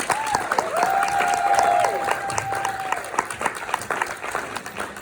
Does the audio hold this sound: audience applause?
yes